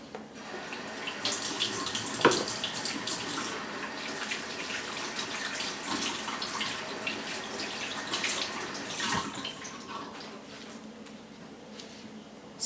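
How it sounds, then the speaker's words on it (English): A kitchen tap runs steadily while hands are washed beneath it, a continuous hissing splash broken by a couple of sharp knocks against the sink. "And let me wash my hand."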